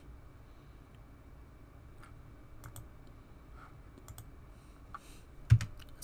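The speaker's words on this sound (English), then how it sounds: "We can type Aslan" Soft, sparse keystrokes tap on a computer keyboard in a quiet room, a handful of light clicks spread irregularly, with one firmer press near the end.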